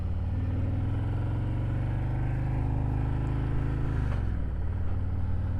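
A motorcycle engine drones steadily while riding down a road, a loud, continuous low rumble with a slight dip in pitch toward the end.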